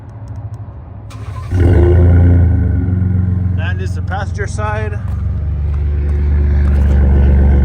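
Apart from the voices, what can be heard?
2017 Ford F150 Ecoboost engine running with exhaust leak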